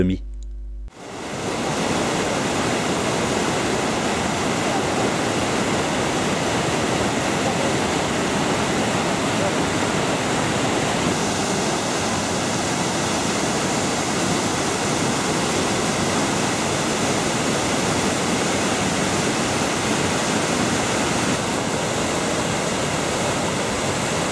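A powerful, continuous roar of falling water, dense and unbroken, from the Iguazu Falls in Brazil, with some 275 cascades along a 2.5 km front.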